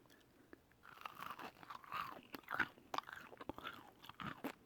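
Someone bites into crunchy air-fried chicken tenders with a crisp crust, and a steady run of close, crackling crunches and chewing sounds follows. The chewing is quiet and no one talks.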